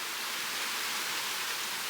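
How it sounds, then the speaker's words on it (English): Strong wind of about 37 knots with rain battering an anchored boat, a dense, steady roaring hiss that fills the whole moment without pause, loud and close. "37 knots of wind"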